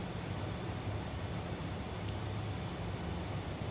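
The jet engine of a Fokker F28 in Microsoft Flight Simulator 2020 is spooling down. It is a steady, even wash of broad engine rumble and hiss that carries on without a break.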